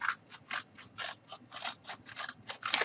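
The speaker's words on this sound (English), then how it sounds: "I'm just going to cut out a strip." Scissors snip through a strip of cardboard in a quick series of about a dozen crisp, close cuts at a steady rhythm, with no talking.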